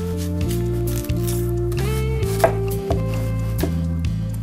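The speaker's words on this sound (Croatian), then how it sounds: "Uzet ćemo luk koji ćemo čistiti i narezati." An onion is chopped on a board for a vegetable pie, with a few knife strikes and soft squishy cuts heard close up under steady background music and no voices.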